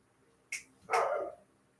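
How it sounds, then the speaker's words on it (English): A dog barks outdoors at night, a faint yip followed by one longer bark heard from a distance against a near-silent background. "And now one of the dogs is out there barking."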